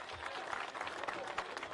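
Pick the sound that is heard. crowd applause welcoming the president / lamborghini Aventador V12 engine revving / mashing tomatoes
crowd applause welcoming the president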